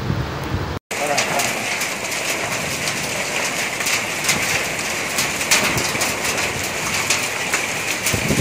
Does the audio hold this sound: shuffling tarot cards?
no